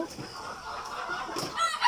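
An Egyptian Fayoumi chicken clucks and calls nearby in short, choppy bursts, with a higher squawk toward the end.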